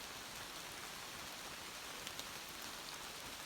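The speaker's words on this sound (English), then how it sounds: "Downpour of water." Torrential rain pours steadily onto a mountain path, a dense, even hiss of falling water with no breaks and no voices.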